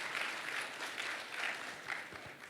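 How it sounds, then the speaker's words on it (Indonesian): Faint, distant applause from a Sunday church congregation, a soft steady patter of many hands rising and falling in small swells over a couple of seconds. "tepuk tangan buat Allah kita"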